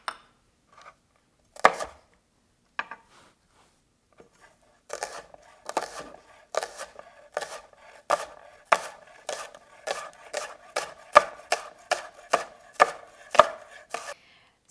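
A knife chops green chives on a cutting board in a home kitchen, a few scattered cuts at first, then a quick steady run of crisp, close taps that picks up pace toward the end.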